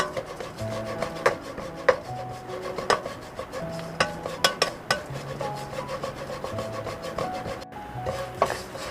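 Small mixed anchovies are dry-stirred in a pan with a spatula, giving continuous scraping and rasping with scattered sharper clicks of the utensil against the pan, steady and close, with no voices.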